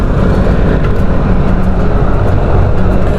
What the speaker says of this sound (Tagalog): daming sasakyan eh.